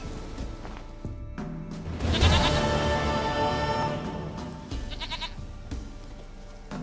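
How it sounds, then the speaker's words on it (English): Goat bleating in The Witcher 3: Wild Hunt, a wavering bleat rising loudly a little over two seconds in, with a second shorter bleat near five seconds, over steady game ambience and background music. "Goat of mine, dearest, sweetest goat."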